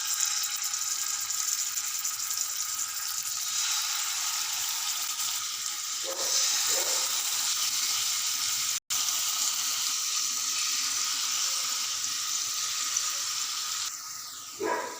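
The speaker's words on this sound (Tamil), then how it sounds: "வச்சுட்டு நம்ம ரெடி பண்ணி மசாலா போட்டு சிக்கன் பீசஸை ஒவ்வொன்றா சேர்த்துக்கலாம்." Chicken tikka pieces coated in masala frying in oil in a pan over a low gas flame, giving a steady, close, continuous sizzle throughout with no talking.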